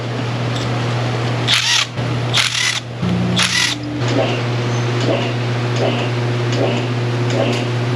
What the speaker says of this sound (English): Let's grab that socket. Should spin right out of there, a little E10 socket.